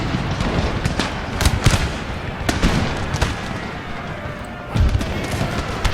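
Musket volleys in Empire Total War crack out as scattered sharp shots over a continuous battle din, some clustered, others isolated and distant.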